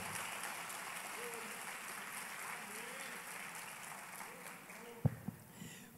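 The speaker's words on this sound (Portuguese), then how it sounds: "Aplauda ao Senhor, amém?" A church congregation claps during a sermon. The applause is faint and distant, a soft continuous patter that fades near the end, where a couple of sharp knocks stand out.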